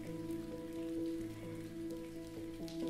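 Soft raindrops falling in a gentle, continuous patter, quiet and close, with no voices over it.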